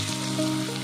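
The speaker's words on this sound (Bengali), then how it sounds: "বড়া ভাজতে প্রচুর তেল লাগে" Bora fritters frying in plenty of oil in a Bengali home kitchen, a steady close sizzle with a faint tonal hum underneath, no voices.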